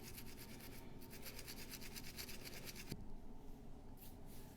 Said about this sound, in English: toothbrush method, soapy water, and just give them a good scrubbing